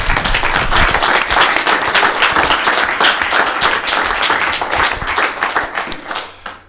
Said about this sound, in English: a round of applause for both players for a great final